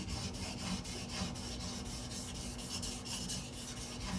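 Mora knife blade laid flat and ground on a whetstone, a continuous close scraping rasp with quick regular stroke pulses and no talk.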